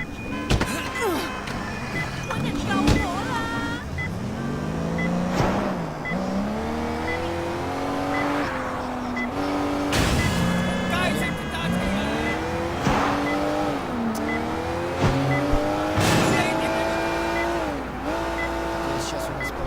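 A car driven in the video game Sleeping Dogs, its engine revving loud and close through repeated rising gear pulls and shifts, with bursts of tire squeal and knocks along the way.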